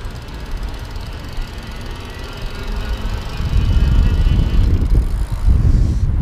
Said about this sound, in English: I'm going to take this down to 0 and just do a throttle test real quick here.